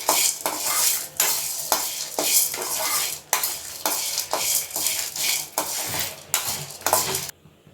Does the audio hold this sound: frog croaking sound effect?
no